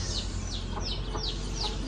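A hen clucks repeatedly nearby in a home setting with chicks, giving a run of short, rhythmic calls over a faint background murmur.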